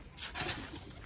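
Pigeons held in a net coo softly in a brief, faint, muffled murmur.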